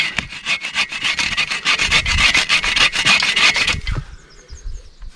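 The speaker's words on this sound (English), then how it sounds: "It's weird sawing upside down." Hand saw cutting through wood from an awkward upside-down angle outdoors, a fast, steady run of rasping strokes, loud and close, stopping abruptly near the end with faint quiet background after.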